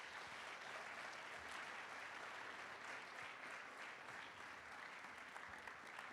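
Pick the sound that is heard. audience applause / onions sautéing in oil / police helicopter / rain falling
audience applause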